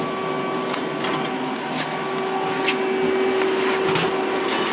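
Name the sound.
hydraulic pump running on Samsung PL10 CNC lathe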